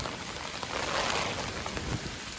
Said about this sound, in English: But still lots of rain